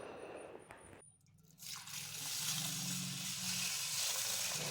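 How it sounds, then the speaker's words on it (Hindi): Running water pours into a vessel while lentils and rice are rinsed for khichdi: a dull knock and brief quiet, then a steady broad splashing stream that grows louder and holds, close by, with no talking. "कम से कम 3 पानी से धो लेंगे, ज़्यादा से ज़्यादा 5 पानी से धो लेंगे"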